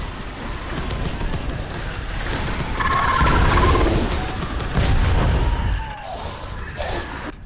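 Suicide bomber explosion from a bioblast strain gene stealer in a video game, a heavy booming blast that swells and rumbles over several seconds amid crashing debris and background game noise.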